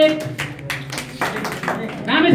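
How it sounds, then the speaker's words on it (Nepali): Audience clapping at an artists' association election in Ramechhap, Nepal, as elected members are announced; loose, mid-level applause bursts mixed with crowd voices, rising toward the end. "जोरदार ताली"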